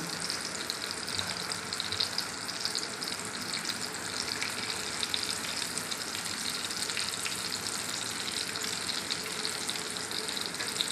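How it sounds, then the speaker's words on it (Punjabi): Chopped tomatoes and garlic frying in oil in a pan, a steady, even crackling sizzle that continues unbroken from start to finish with no talk. "ਆਪਾਂ ਤੇਲ ਵਿੱਚ ਟਮਾਟਰ ਪਾ ਲਏ ਕੱਟ ਕੇ ਤੇ ਨਾਲ ਹੀ ਲਸਣ ਪਾ ਦਿੱਤਾ ਆ"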